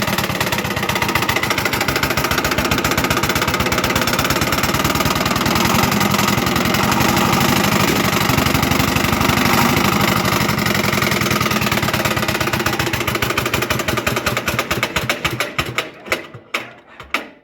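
A tractor engine, just started after breakdowns, idles with a rough, rattling mechanical chug and clattering parts. It runs steadily and loudly, then sputters into uneven bursts and dies away near the end.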